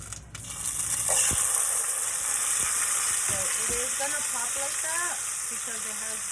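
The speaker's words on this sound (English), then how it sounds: "I'm gonna go ahead and add my beans. My pan is fairly hot, so here it goes." Refried beans hit a hot pan and burst into loud sizzling, easing into a steady fry with scraping stirs and a few clinks of the utensil.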